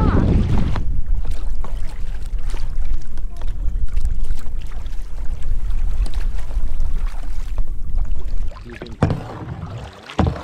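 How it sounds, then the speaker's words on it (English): Strong gusting wind buffets the microphone during sea kayaking in a deep glacier-carved fjord with whitecaps forming, a loud, rumbling roar that eases near the end. "Oh, the wind just got. Jeez, my hat's about to blow off."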